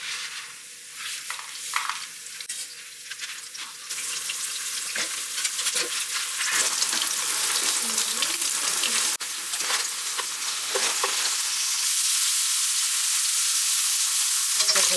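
Food cooking in a pot on the stove while making yukgaejang, a Korean spicy beef soup, with a steady bubbling, sizzling wash that grows louder and fuller toward the end, with occasional stirring clinks and no talk.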